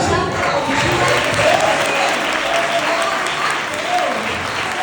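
A church congregation applauds steadily for about five seconds, a dense, even wash of many hands clapping at moderate distance, with a murmur of voices mixed in.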